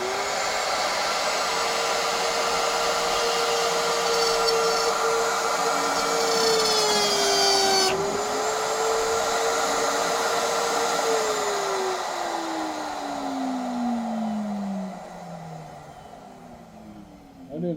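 A router cuts wood during a model ship build, giving a sustained high whine that holds steady, dips as the bit bites, then winds down and fades as the tool stops; someone speaks briefly over it.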